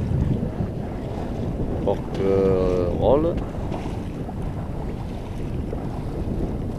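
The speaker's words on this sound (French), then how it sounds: "le vent s'est levé, il y a 10 nœuds de vent maintenant" Wind rushes over the microphone while a sailboat crosses at sea toward Port-Cros in a ten-knot beam breeze, making a steady low roar throughout, with someone briefly speaking near the middle.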